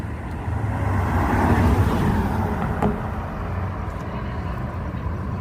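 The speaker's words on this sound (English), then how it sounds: "Let's see how well we can catch this car driving by." A car drives by on a night street near an intersection, a broad swelling road roar peaking then fading as it passes, with steady background hum.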